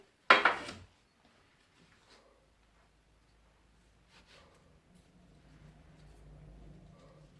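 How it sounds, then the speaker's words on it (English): A 2-inch cutter presses through floured wild garlic and cheddar scone dough with one sharp, loud thud, followed by faint scraping and soft rustling as the rounds are placed on a baking tray. "So just cut them out and pop them on your tray."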